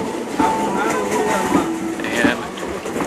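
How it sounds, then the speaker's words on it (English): Passenger train travelling from Thailand to Kuala Lumpur, its steady rumble running continuously with faint clanks and tonal rail squeals close by inside a crowded carriage. "Here we are on the train from Thailand to Kuala Lumpur"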